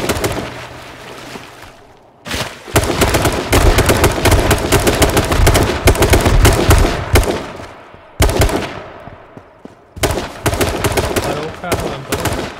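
Loud rapid bursts of automatic gunfire in a shooting video game come in long stretches broken by short pauses, some shots sharper and closer than others.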